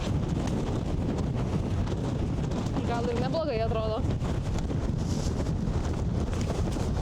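Strong wind roars and buffets the microphone throughout on the island of Madeira, a steady rushing noise, while a person briefly speaks midway.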